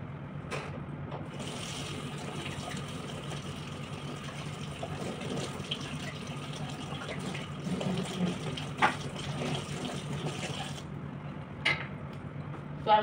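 Water runs steadily from a tap while something is washed under it, a constant close gush with a few small knocks and splashes near the end.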